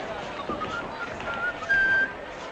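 A man whistles briefly in a western film scene, a few thin high notes rising over a faint background murmur.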